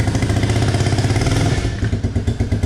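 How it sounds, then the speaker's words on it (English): An ATV engine revs while in gear after reassembly and clutch work, a close, loud, throbbing chug that pulses rhythmically and eases off slightly toward the end. "as we rev it up we move"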